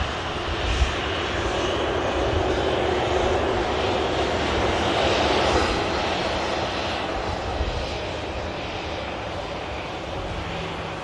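An Atlas Air Boeing 747 taxis at Manchester Airport after a flight from Dubai, its engines giving a steady, loud, continuous roar and whine that swells slightly midway and holds throughout with no voices.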